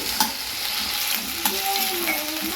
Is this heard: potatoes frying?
yes